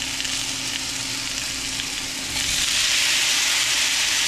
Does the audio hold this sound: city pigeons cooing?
no